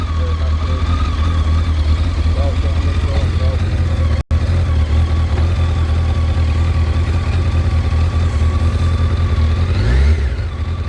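A car engine idles steadily and close by, a constant low hum running the whole time while the charging voltage is checked on a multimeter, with a brief dropout partway through and a slight rise near the end.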